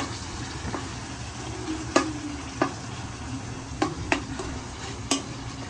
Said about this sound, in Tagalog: So, gigisa lang natin yan dito.